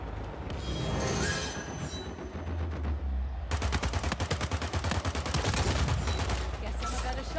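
Gunfire in the game That bounty is mine: a steady rapid burst of repeated shots in the second half over a rumbling mechanical bed, with a sustained loud rattling texture.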